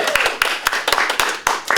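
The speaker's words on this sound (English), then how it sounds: "Let's give a round of applause." Audience at a university leadership race Q&A clapping, a brisk series of crisp handclaps close by, with voices murmuring underneath.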